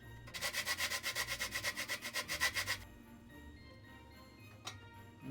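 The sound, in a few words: grating nutmeg onto porridge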